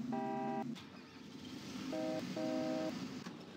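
Three short tonal tractor horn honks in Farming Simulator, one long then two quicker, sounding over a steady engine rumble.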